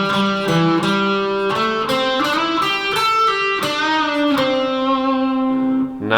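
Electric guitar playing a measure of a song's solo, a run of sustained, lightly driven single notes with bends and steady picking, close and loud with no voices.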